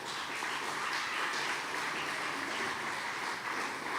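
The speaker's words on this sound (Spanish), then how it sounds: "Vamos a dar un aplauso a nuestro Señor." A church congregation applauds together in a steady wash of many hands clapping, even in loudness and heard at moderate distance for the whole span.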